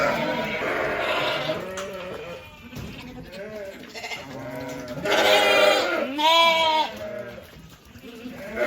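Lambs bleat loudly and repeatedly, many overlapping calls close by as the flock moves through a sheep foot bath on a farm; a person talks among them.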